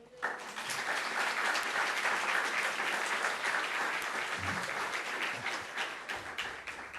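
A church congregation warmly applauds to welcome a missionary pastor, with steady, full clapping from many hands that holds for several seconds before starting to ease off.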